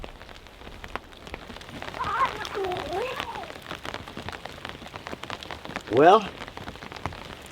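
Steady rain patters on the fabric of a one-person Free Soldier tent, a soft continuous hiss of drops heard from inside, with brief murmured speech and a short louder rustle near the end.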